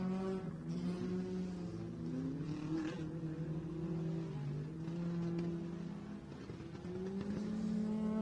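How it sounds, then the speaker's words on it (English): A Honda rally car revving on tarmac during a rally stage, its engine droning steadily with rising and falling pitch throughout, heard from a distance and fairly faint. "Have a listen to this thing as it gets, if it can get up on revs."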